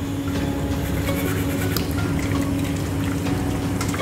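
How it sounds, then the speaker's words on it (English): Tap water running while hands are rinsed at a kitchen sink, a steady, close rushing stream of water with a constant hum beneath it, unbroken for the whole stretch. "Rinse off my hands, leave the tap water running."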